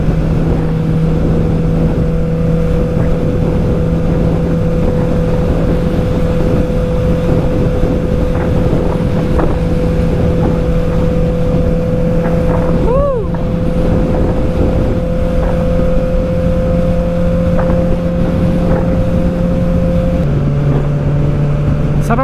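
Heavy wind rush with a steady engine drone from a Honda CB650R motorcycle cruising on an expressway, loud and continuous throughout with a brief pitch shift near the end.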